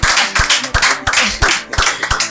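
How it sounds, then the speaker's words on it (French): A small audience at a televised prize show applauds a woman, with close, loud hand claps in a quick uneven rhythm. "applaudissons pour Madame"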